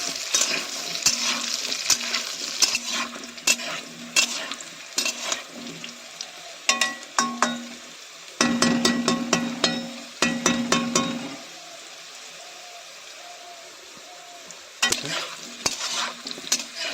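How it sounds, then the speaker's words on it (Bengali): Potato pieces frying in oil in a pan, stirred with a utensil for a Bengali potato and patol curry; a soft sizzle runs beneath irregular scraping and clinking strokes, with a few short pauses. "লাল করে ভেজে নেব আলুটা এখন আমি নেড়ে কেড়ে ভেজে নেব"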